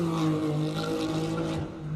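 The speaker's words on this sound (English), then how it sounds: "listen to that spectacular sound. You got to love a 6-cylinder." A classic six-cylinder car roars past at a Cape Town hill climb, a sustained, fairly loud engine note with a slight tire squeal, fading toward the end.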